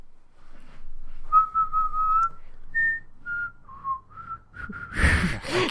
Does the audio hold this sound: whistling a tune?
yes